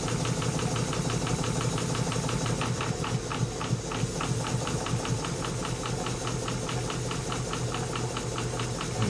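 A Stuart No. 9 horizontal mill steam engine with a big bore runs on steam, giving a loud, steady rapid chuffing and mechanical knocking that holds an even rhythm throughout.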